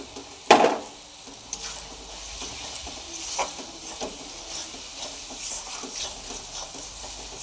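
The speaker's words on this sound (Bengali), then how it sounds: "সব কিছু দিয়ে ভালো করে নাড়াচাড়া করে নেব" Chicken curry with ground coriander, cumin and Kashmiri chilli powder being stirred in a pan: one sharp knock near the start, then steady scraping and soft sizzling close by, with no voices.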